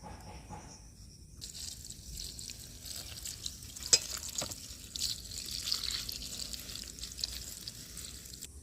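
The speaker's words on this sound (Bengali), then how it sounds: "শাকগুলো বেছে নিয়েছি, এবার আমি ভালো করে ধুয়ে নেব।" Drumstick (sajna) greens being rinsed by hand in water, a steady soft splashing and trickling close by with a few sharper knocks, no voices.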